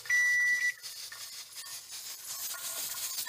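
A kitchen timer gives one loud, sustained electronic beep for about half a second when a two-hour stovetop run of mushroom spawn jars is finished, followed by quieter rustling and handling noise.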